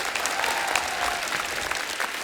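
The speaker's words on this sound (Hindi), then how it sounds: "जोरदार तालियां होनी चाहिए" A studio audience at a comedy talk show applauding steadily, dense clapping that stays loud and even throughout with no voices on top.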